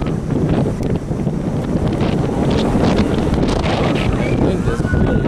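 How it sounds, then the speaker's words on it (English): Strong wind buffets the microphone at a theme park roller coaster construction site, a loud continuous roar with gusty surges lasting throughout. "Wind is really bad."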